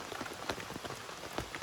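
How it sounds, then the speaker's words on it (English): Rain falling on a tent at a campsite, a soft steady patter of drops with scattered sharper taps close by and no voices. "Doesn't bother us that it's raining."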